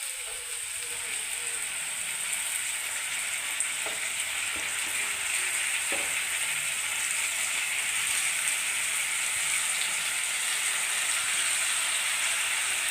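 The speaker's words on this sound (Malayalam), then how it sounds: "ചെറുതായിട്ട് കൊഞ്ചൊന്ന് വഴറ്റണം." Prawns sauté in hot oil with curry leaves, giving a steady close sizzle that runs unbroken, with a few faint clicks of a utensil.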